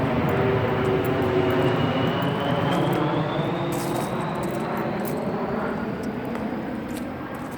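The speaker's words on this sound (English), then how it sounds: "I need to wait for this plane to pass over." An airplane passes overhead above woodland, a broad continuous engine roar with a slowly rising whine, loud at first and gradually fading as it moves away, with no talking.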